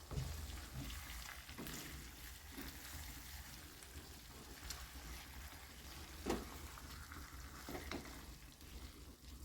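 Chicken leg pieces fry in a pan for a village-style chicken curry, a quiet continuous sizzle with occasional soft clinks and stirring noises, no talking.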